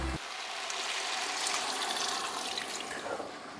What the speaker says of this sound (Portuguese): eu vou jogar um pouquinho de água